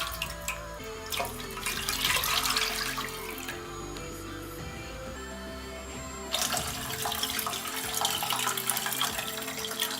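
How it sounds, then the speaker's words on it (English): Coconut milk pours into a pan on low heat in two bursts of splashing and trickling, close by, with a brief quieter pause between them. "Pour in all of your coconut milk."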